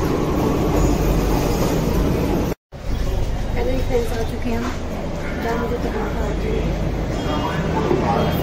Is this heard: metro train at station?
yes